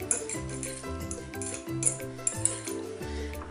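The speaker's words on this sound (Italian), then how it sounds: "Andiamo a sgranarlo un attimo con una forchetta." Cooked couscous being fluffed with a fork in a pan: light scraping and clinking of metal against the pan, close and steady, with a few sharper taps and no talking.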